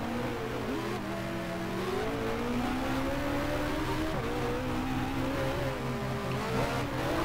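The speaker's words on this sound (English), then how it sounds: "we're approaching the final two bends here. My teammate Jack Rubin right on my gearbox" A 1960-era Formula One race car engine in the F1 Challenge 1960 racing game on the Portugal circuit drones continuously, its pitch rising and falling through gear changes as it approaches the final bends, loud and steady throughout.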